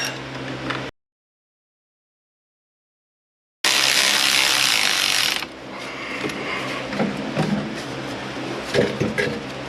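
A ratchet wrench clicks rapidly as it tightens a 10mm bolt on a bracket during rear wheel bearing work on a 2015 Dodge Journey. The clicks are close and loud, with a silent gap early on and a burst of harsh noise midway.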